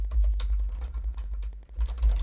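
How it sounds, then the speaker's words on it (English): Rapid keystrokes on a computer keyboard as a file name is typed into a Python Excel automation script, a close, steady patter of clicks with no talking. "So I'm going to type out the name"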